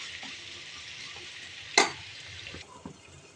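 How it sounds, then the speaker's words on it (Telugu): Bitter gourd frying in oil with turmeric and salt, a soft continuous sizzle with a sharp clink of utensil against the pan partway through, then the frying grows quieter. "ఇలా పసుపు ఉప్పు వేసిన తర్వాత ఇలా వేగనిచ్చాలండి"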